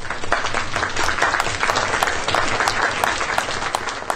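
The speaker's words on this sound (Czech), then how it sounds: "Byli jste úžasní a i za kočičí řeč zasluhujete jedničku a velký potlesk." An audience claps for a few seconds at a children's stage show about animals, producing a dense, even patter of many hands that holds at a steady level with no voices on top.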